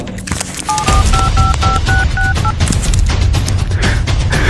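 A quick series of telephone keypad tones, about eight beeps in a row, over loud rumbling background noise.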